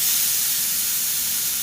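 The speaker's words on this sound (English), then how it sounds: "So I'm going to listen for this sizzle, y'all. This is my indoor grill." Mushrooms sizzle on a Ninja indoor grill, a steady, loud, broadband hiss of frying with no pauses and no voices.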